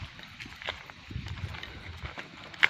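A horse walks on a small farm planted with corn and coconut, its hooves giving soft, irregular clip-clops at middle distance amid rustling outdoor noise, with a faint voice in the background.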